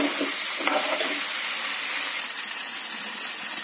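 Vegetables and spices stirred in a hot pan, a bright continuous sizzle with a couple of quick scrapes early on, then an even hiss, close by and with no voices.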